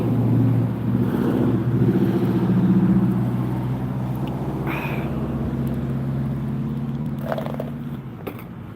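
A vehicle turns around on a road, its engine a low steady idle and rumble nearby that slowly fades, with a few faint higher squeaks toward the end.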